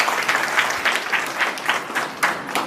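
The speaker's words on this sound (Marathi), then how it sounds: "जोरात टाळ्या वाजवा." Loud audience applause filling the room, dense steady clapping with rhythmic swells, close and sustained throughout with no voices over it.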